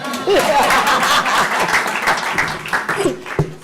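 Clapping from an awards ceremony audience keeps going throughout, with laughter and a speaking voice blended into the steady crowd sound before it thins at the end.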